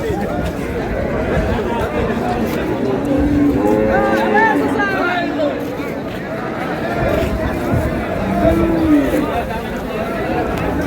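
Cows moo at a rural cattle market in Dinajpur, two drawn-out calls rising over the crowd, with people talking loudly throughout amid the busy murmur of the market.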